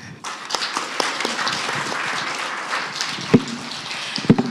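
Audience applause after a contestant's presentation at a history and culture speech contest, steady clapping from a crowd in a hall throughout, with a couple of louder claps standing out near the end.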